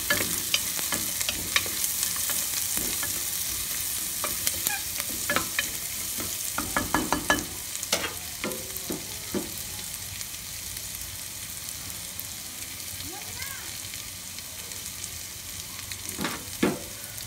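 Onions fry in a pan for yakhni pulao with a steady, soft sizzle, broken by scattered clinks and scrapes of stirring. No one speaks.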